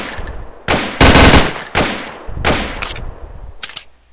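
Loud rapid gunfire in an online video game, automatic bursts crackling in several separate volleys with short gaps between them.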